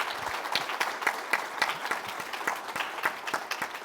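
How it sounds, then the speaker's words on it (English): An audience at a panel discussion on health in underrepresented communities claps for the panelists, a dense, steady patter of many hands lasting a few seconds. "Can we give our panelists a round of applause?"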